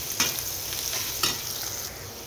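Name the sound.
stirring spices frying in a pan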